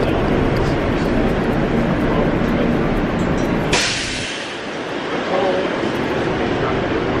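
An airport transfer train rolls along with a loud, steady rumble that abruptly drops to a quieter hum partway through, as if passing into a different space.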